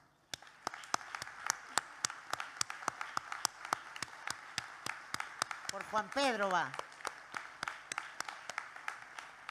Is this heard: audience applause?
yes